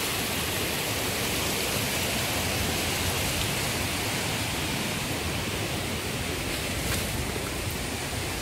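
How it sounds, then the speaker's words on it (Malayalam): A river stream flowing near Didupe Falls, a loud, steady broadband rush of water that stays constant throughout with no voices. "നല്ല അടിപൊളിയായിട്ടുള്ള പുഴ"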